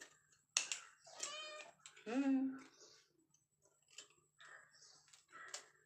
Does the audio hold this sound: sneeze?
no